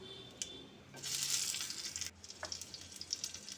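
Black cumin seeds and two green chillies sizzle in hot mustard oil as a tempering, a steady close frying hiss that swells for about a second, with light clinks and stirring noises around it.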